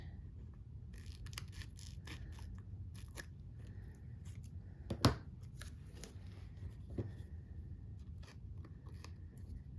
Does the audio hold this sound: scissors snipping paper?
yes